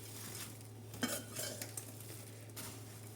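Rusk powder stir-fried over a low flame for halwa, with quiet scraping and a few soft clinks of a spoon against the pan over a faint sizzle and a low steady hum.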